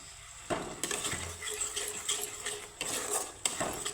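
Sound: pasta masala being stirred and sautéed in a pan

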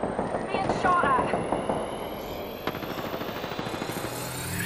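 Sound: gunfire in the video game Apex Legends

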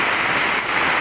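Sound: heavy rain falling

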